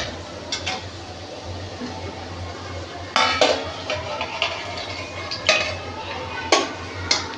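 A lid is set on a cooking pot of Maharashtrian val bean amti with potatoes and beans. Several sharp metallic clinks and clatters stand out over a steady low kitchen hum, with no talking.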